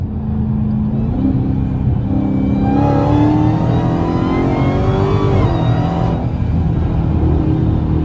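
A Ford Mustang GT350 pulls hard in third gear, its loud engine note climbing steadily for several seconds before the throttle lifts, followed by rumbling and small backfire pops; no voices.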